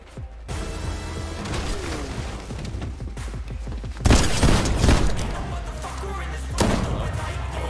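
Gunfire in the video game Fortnite sounds as a dense, continuous volley of shots with heavy booming impacts, louder bursts landing partway through and near the end.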